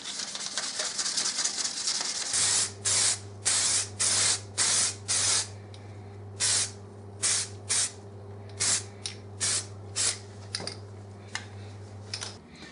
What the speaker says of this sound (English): I'm going to spray it with the actual paint, the actual Tamiya prescribed paint, which is TS8, I believe, Italian red